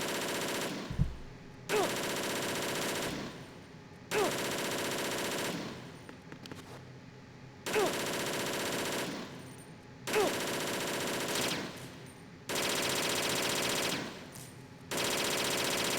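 Machine gun fire in Metal Gear Solid 2 comes in repeated long bursts of rapid shots, each several seconds long with brief gaps between, loud and harsh, with no talking over it.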